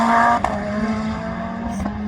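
A turbocharged Honda race car climbs a hillclimb course at Harewood, its engine droning loud and close with a steady high-revving tone and brief sharp bursts as it passes.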